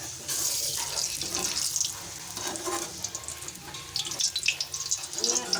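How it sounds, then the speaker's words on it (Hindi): Oil poured into a cooking pan while making aloo matar curry gives a steady, close wet pour and faint sizzle that runs throughout. "ये अब हम इसमें ऑयल डालेंगे।"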